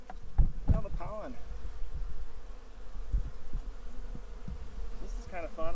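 Honey bees swarm and buzz around a tree during a trap-out high up in the branches, a steady close drone with brief louder passes near the microphone.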